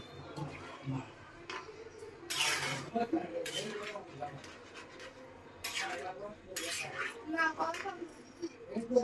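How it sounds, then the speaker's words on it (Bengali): Broth is poured into a pan of cooking prawn, green banana and taro curry, with clinks of a metal spoon and pot between splashing pours, close and moderately loud. "এখন ঝোল দিয়ে দিই"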